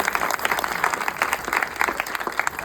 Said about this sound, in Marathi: पण जेवढ्या तुम्ही जोरदार टाळ्या वाजवताल तेवढे भाग होतील